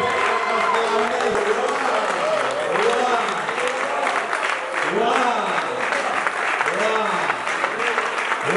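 A church congregation acclaiming Jesus, a continuous wash of clapping and cheering under a loud voice that keeps talking throughout.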